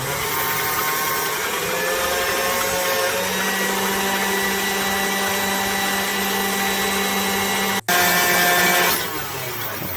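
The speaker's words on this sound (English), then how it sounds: "Set them up pretty high until you get stiff peaks. It should, on this kind of mixer, it should take 90 seconds to 2 minutes." An electric mixer runs at high speed beating ingredients toward stiff peaks, a loud continuous motor whir close by with a brief cut near the end and no talk.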